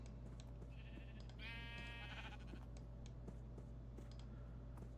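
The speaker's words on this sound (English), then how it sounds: "Here's many sheep." A sheep bleats once in Minecraft 1.20 survival mode, a short wavering call partway through, over a steady low hum and faint clicks.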